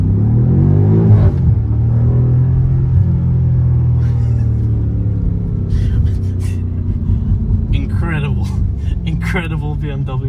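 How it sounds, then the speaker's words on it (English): A 2020 BMW M5 Competition's engine pulls under acceleration as a deep, steady rumble inside the car, with brief voices breaking in toward the end. "Let's give it a little bit of gas."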